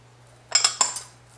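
Sesame, poppy and caraway seeds being mixed in a bowl, heard as a few quick metallic clinks and scrapes of a utensil against the bowl, close and clear in a quiet room.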